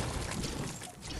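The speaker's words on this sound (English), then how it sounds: "Like the waterfall right here?" A waterfall in the video game Fortnite: a steady, broadband rushing and splashing of falling water, close and fairly loud, continuous through the brief moment with a slight dip near the end.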